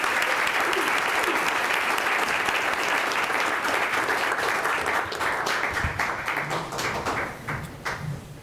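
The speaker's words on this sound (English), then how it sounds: "Let's have a nice round of applause for them." Sustained applause from the audience at a Salem city council meeting: dense, even clapping from many people that carries on for several seconds, then thins into scattered individual claps and faint murmuring as it dies away.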